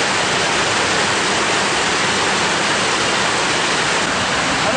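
Water rushes steadily from a dam into irrigation channels at Lonoy, making a dense, loud, unbroken roar with no other sounds on top.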